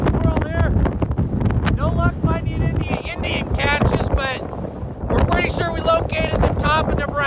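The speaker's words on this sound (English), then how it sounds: "A little windy today." Strong wind rumbles and buffets the microphone throughout at a hilltop viewpoint in Nebraska as people talk and laugh over it.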